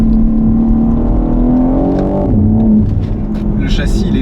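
A 2023 BMW M3 Touring with an eight-speed automatic accelerates, its engine note droning steadily and rising in pitch, heard close and loud beneath someone talking over it.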